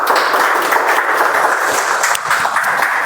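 A room of club members at a Toastmasters speech marathon meeting gives a loud, sustained round of applause, dense steady clapping from many hands with no talk over it.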